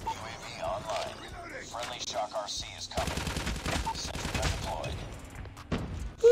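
Gunfire in the mobile shooter COD Mobile comes as rapid bursts of shots and repeated weapon fire, and announcer voice lines and game effects sound alongside it.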